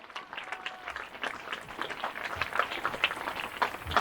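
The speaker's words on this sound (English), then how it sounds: "please give your teachers, supervisors, administrators, and school staff one last round of applause for all their hard work" A graduation audience in a high school ceremony applauds its teachers and staff, a steady, fairly distant wash of many hands clapping throughout.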